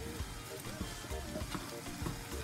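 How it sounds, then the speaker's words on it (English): Fish rolls fry in hot oil, giving off a steady, close crackling sizzle with small pops scattered through it. The sound is fairly quiet and runs unbroken. "If not, just leave it and let it continue to fry."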